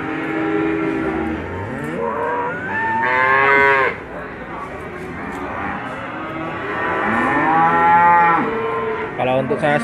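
Cattle at a livestock market in Sleman, Indonesia, where Simmental feeder bulls are traded, give several long, loud, drawn-out moos one after another over a constant crowd and market din.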